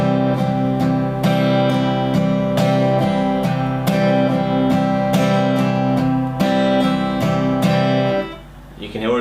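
Steady strummed guitar chords in a rolling triplet feel, bright and close, continuing evenly for several seconds before stopping.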